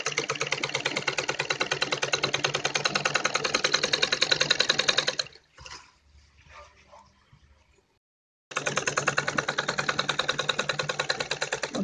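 A sewing machine runs straight stitching on kurti fabric while a back zip is set in: a steady, fast rattling run for about five seconds, a quiet pause with faint handling, then another even burst of stitching.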